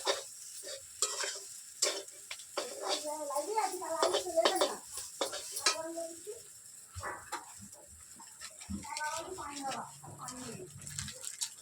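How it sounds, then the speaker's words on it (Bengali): Chicken chow mein being stirred and tossed in a pan, with scraping and light sizzling under frequent talk; a voice and a dog's bark also come through intermittently. "চাউমিন দেওয়ার পর ভালো করে নেড়ে চেড়ে নেবো, সব কিছু ভালো করে মিশিয়ে দেবো।"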